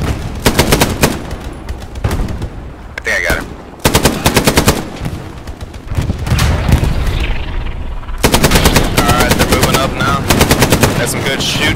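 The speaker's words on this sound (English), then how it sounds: "Some good shooting." Loud, close gunfire in the World War II video game Hell Let Loose: long machine-gun bursts and rapid shots in several volleys separated by brief pauses.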